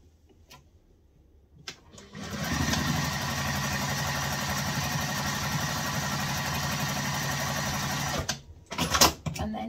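A sewing machine top stitching a wallet starts up after a quiet moment, runs in a steady rapid whirring chatter for about six seconds, then stops, followed by a few handling clunks.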